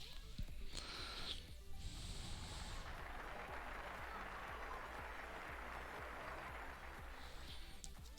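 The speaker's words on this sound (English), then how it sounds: "Thanks for the claps" Stream viewers' clapping sound effect, a steady patter of applause lasting several seconds, faint and continuous, with brief tonal chimes near the start and end.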